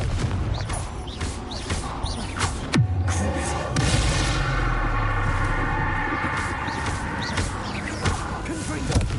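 A Confringo spell blast in the Hogwarts Legacy video game on PS5, a sharp booming burst amid busy combat effects, with several other bangs and cracks scattered through the fight.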